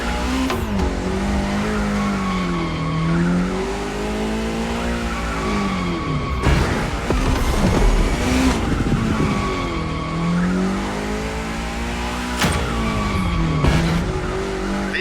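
A car drifting in The Crew Motorfest, engine revving in rising and falling sweeps under long, wavering tire squeals that run almost without a break, loud and close.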